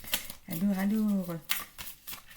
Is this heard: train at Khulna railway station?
no